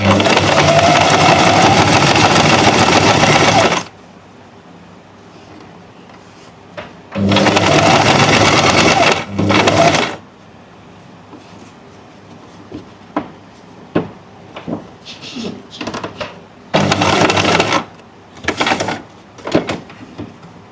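Sewing machine stitching a neckline margin on a garment, loud close bursts of rapid whirring stitching that start and stop several times, separated by quiet pauses with small handling clicks and fabric movement.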